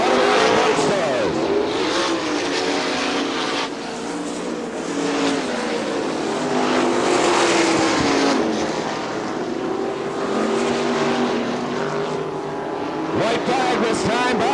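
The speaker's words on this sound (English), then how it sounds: "Rapp's winding down in this 3rd and final heat event for the Outlaw Sprint Car Summit." Loud roaring 410 sprint car engines sweep past at Crystal Motor Speedway, Michigan, in a 1999 heat race, pitch rising and falling as cars circle, with a commentator talking over the din.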